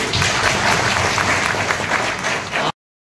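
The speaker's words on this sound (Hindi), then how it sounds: "मैं पूरे दल को स्वागत करता हूँ, तालियां बजाइए" Steady, thick applause from a gathered audience at a Rajasthani legislator's meeting with officials, loud and continuous for under three seconds before cutting off abruptly into silence.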